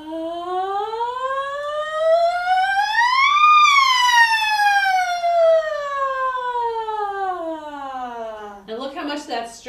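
A voice imitates a siren in a singing exercise, one smooth unbroken glide that rises to a high peak and then slowly falls back down, loud and close, ending with a brief breathy sound.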